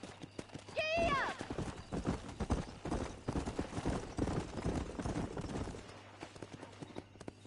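Horses gallop with rapid, rhythmic clip-clop hoofbeats in the Western video game Red Dead Redemption, opening with a loud whinny and continuing steadily as the riders set off.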